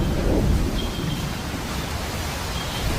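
A thunderstorm over the islands of Wallacea in Indonesia rolls on as a deep, steady roar of thunder and heavy rain, dense and continuous with no pauses.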